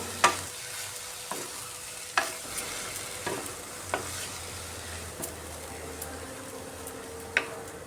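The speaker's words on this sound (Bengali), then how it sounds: "বারবার নাড়িয়ে চাউমিনের মধ্যে লবণটা যাতে ভালোভাবে মিক্সড হয়ে যায়" Chow mein noodles tossed with salt in a pan, stirring scrapes and light sizzling with several sharp utensil clacks spaced through the clip, close and fairly quiet, no talking.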